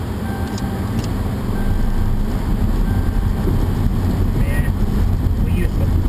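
Steady low road and engine rumble from inside a moving car heading down a local road, continuous and fairly loud with wind noise throughout, no talk.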